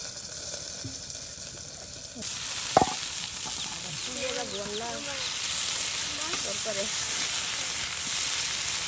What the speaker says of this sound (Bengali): সুন্দর মাছ ভাজি হচ্ছে।